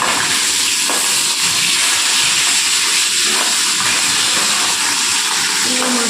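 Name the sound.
fish frying in a pan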